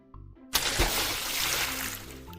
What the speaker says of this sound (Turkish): Oğlum denizaltıyı suya mı fırlattılar lan direkt?